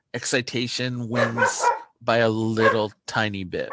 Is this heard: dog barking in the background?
yes